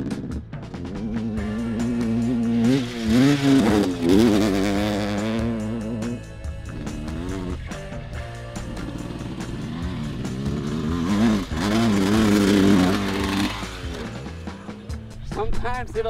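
An old two-stroke dirt bike engine warms up, idling roughly and rising in repeated revving bursts close by, with talk over the engine noise.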